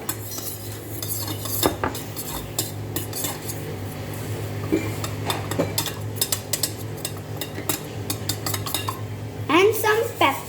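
Utensil stirring an omelette mixture with salt in a bowl, rapid clinking and scraping against the bowl that runs throughout, loud and close, ending in a busier flurry of clatter.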